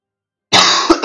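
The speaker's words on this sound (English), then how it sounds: "I apologize about the constant coughing." A single harsh cough bursts out close and loud, trailing into a rough throaty rasp and then a second short cough, heard alone with no talk.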